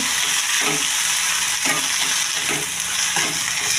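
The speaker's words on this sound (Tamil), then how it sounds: "புளியும் அதிலே போட்டு 2 வதக்கி எடுத்துக்கணும்" Soaked tamarind sautéed in a pan, a loud continuous sizzle and fry with rhythmic stirring scrapes every second or so.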